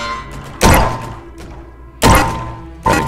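Three heavy, punchy gunshots from a gun in the online party game Crab Game ring out loud and close, each a deep thudding blast with a short decay, spaced unevenly about a second apart.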